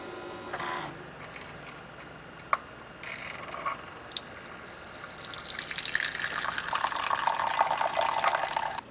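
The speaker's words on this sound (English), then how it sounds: "the Keurig coffee maker pours out a whole cup of coffee" Keurig coffee maker filling a cup: a steady thin stream of liquid pouring, growing louder and fuller toward the end, with a faint click early on and no talking.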